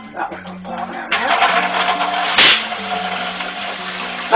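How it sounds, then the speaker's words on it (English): Hot water gushing from a kitchen tap into a pressure cooker used as a steamer for canning tomato sauce, a steady broadband rush that starts partway in and continues loud, with clattering pot handling underneath. "I got to get some hot water running out of the tap"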